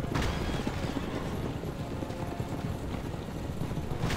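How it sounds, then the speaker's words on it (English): Horse hooves clip-clop continuously at a brisk pace in the video game Assassin's Creed Revelations, a dense, steady clatter filling the whole stretch with no voices. "I feel like our horses are just, like, mad at us right now."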